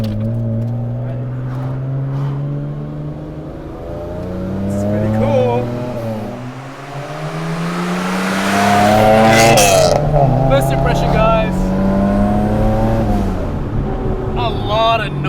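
A Nissan R31 Skyline with an RB30 engine and five-speed manual revs hard through the gears, its loud, rising engine note dropping and climbing again with each shift, while someone talks excitedly over it from inside the car.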